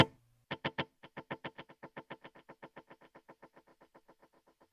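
A Source Audio Encounter pedal plays a rhythmic pattern of repeating delay taps with wash turned up, the pulses evolving and feeding back into each other as they gradually fade away, starting with three strong hits.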